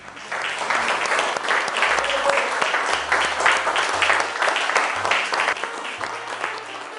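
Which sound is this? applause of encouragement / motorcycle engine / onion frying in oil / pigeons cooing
applause of encouragement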